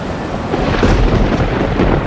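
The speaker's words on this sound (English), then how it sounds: "A big storm blew up on the lake." Storm on a lake, with a deep rumble of thunder rolling beneath a wash of wind and rain, steady and loud throughout with a swelling middle.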